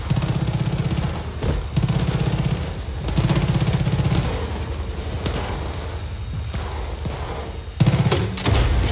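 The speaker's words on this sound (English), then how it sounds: "Bit of a gun battle." Dense video-game gun battle with rapid automatic fire in long, loud bursts, broken by brief gaps and sharper single impacts, continuing almost without pause.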